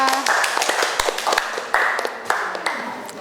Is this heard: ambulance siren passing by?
no